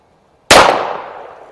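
A single sharp, very loud gunshot from a 1922 Colt 1911 Government .45 ACP pistol at a shooting range, a sudden close crack followed by a long decaying echo.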